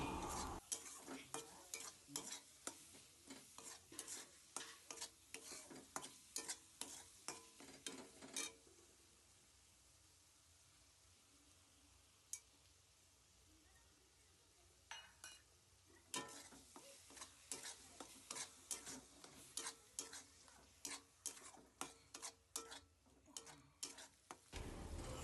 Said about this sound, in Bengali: এবার ভালো করে এটাকে নাড়াচাড়া করে নিন।